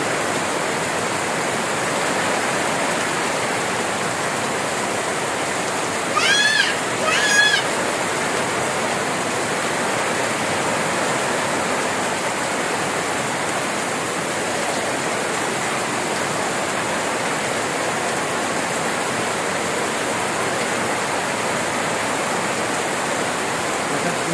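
Heavy rain pours steadily in a dense, constant roar, heard from under a tent, with a brief squeaky sound cutting through around the middle.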